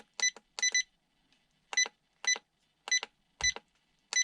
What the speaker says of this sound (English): And in center position there's a double beep.